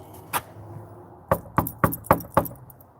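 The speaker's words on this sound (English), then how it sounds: "Let's try knocking on the door." Knocking on a shut door inside haunted church ruins: one sharp rap, a pause, then four evenly spaced loud knocks close by, over a faint steady hiss of background white noise.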